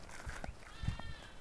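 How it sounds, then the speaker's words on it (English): Goats on a neighbouring farm bleat a few times in short, fairly distant calls over quiet outdoor background noise. "You hear the goats?"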